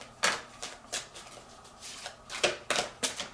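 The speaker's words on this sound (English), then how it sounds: "It's a difficult shuffle because it's still new." A new, stiff deck of playing cards shuffled by hand in a series of crisp riffling bursts, close and fairly quiet, with short pauses between passes.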